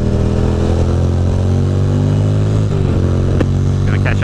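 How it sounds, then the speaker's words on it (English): A motorcycle engine hums steadily on the road ahead, loud and continuous from a riding motorcycle's point of view, with a steady low drone and a brief shift in pitch near the end. "there's a motorcycle up ahead."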